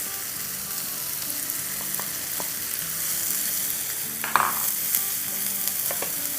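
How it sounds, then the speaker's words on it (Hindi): A large, coarsely chopped onion sautés in about a tablespoon of oil, giving a steady close sizzle with scattered spatula scrapes and stirring knocks, and a brief louder crackle midway. "1 टेबलस्पून के आसपास तेल डालेंगे और यहाँ हमारे पास एक लार्ज अनियन थी, जिसको मोटा मोटा काटा है, वो डाल देंगे और सौटे करेंगे"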